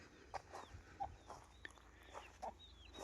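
Chickens and one-month-old chicks in a farmyard pen clucking softly at a distance, scattered short calls with faint chirps over quiet background.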